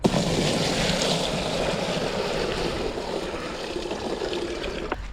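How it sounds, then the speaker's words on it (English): Water pours steadily into a yellow plastic mixing tub for K-Rend render, a continuous loud rushing splash that holds nearly unchanged throughout. "first thing I'll do when I'm mixing in the yellow tub is I'll add the water in first"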